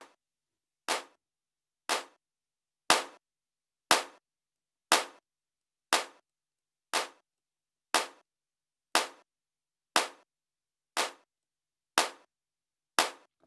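Sharp percussion hits processed with a transient-shaping compressor blended with the dry signal strike one at a time at a steady pace, about one per second, each snappy attack decaying quickly into silence.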